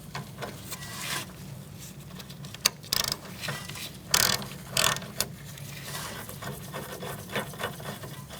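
A ratchet tightening the bolt on a rear brake hose at the caliper of a 2016-2019 Chevrolet Cruze, with close, quiet clicking pawl bursts and scraping handling noises in uneven spurts, no talking.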